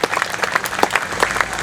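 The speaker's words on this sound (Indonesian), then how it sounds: "Tepuk tangan semuanya untuk Pak Mustafa." An audience claps for Pak Mustafa, introduced to read a poem accompanied by Kiai Kanjeng, at a Nahdlatul Muhammadiyyin evening gathering; a short burst of dense, steady applause from a crowd, fairly close, with no talk over it.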